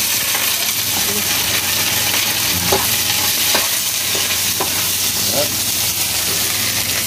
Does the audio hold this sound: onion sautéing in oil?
yes